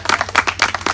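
A congregation claps in praise during a Spanish-language worship service, a quick, steady rhythm of sharp hand claps with no talk over it.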